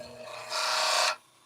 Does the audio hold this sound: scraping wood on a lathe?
yes